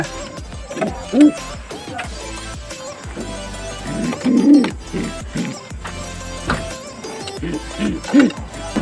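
Racing pigeons being loaded into a training box give low, repeated cooing calls in a few bursts, mixed with voices and handling noise.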